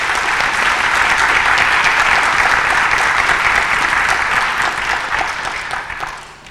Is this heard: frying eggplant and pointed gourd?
no